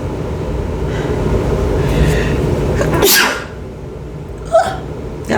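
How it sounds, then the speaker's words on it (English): A single loud, sharp sneeze bursts out close up over a steady rumbling background, followed by quieter rustling and a brief small noise afterward. "I gotta sneeze, y'all."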